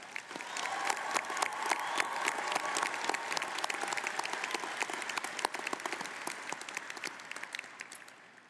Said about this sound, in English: can we please give a round of applause to the graduating class for these milestones?